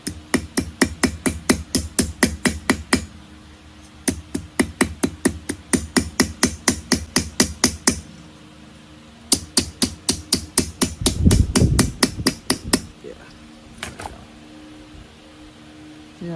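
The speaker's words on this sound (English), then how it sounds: "And this is the one I hammered." Metal casting being struck with a hammer in a workshop, a loud run of sharp, evenly spaced blows in quick bursts with short pauses between, followed by a brief scraping or grinding patch near the end.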